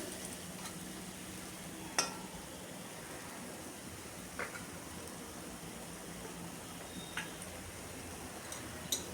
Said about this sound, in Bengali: এবার খুব ভালো করে কষিয়ে নিতে হবে মশলাটাকে।